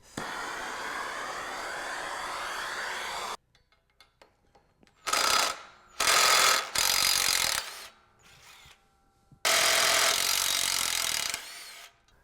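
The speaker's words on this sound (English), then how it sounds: "we're going to heat up each one of these Torx-headed screws, and then we're going to loosen them off here with a ratchet" A ratchet loosens heated Torx-headed screws on a Ski-Doo Freeride clutch, with a long steady grinding stretch followed by several short, loud bursts of clicking and rasping separated by quiet pauses.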